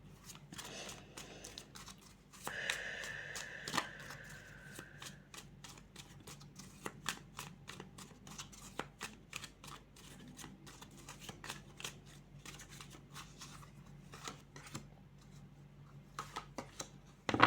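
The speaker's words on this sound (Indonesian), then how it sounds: "saya akan kocok dulu ya semua kartunya" Tarot cards are shuffled by hand in a long run of crisp riffling and flicking taps, steady and fairly close, with brief soft rustles between bursts and no talking.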